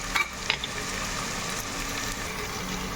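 Pudina rice masala frying in oil, with a continuous steady sizzle and bubbling up close, plus a couple of light spoon taps near the start.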